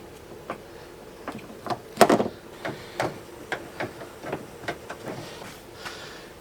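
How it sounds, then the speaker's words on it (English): Truck door handle being worked open and closed repeatedly, a series of sharp clicks and clunks at irregular intervals, one louder rattling clack among them, fairly close with no talking. "Open the door handle, close the door handle."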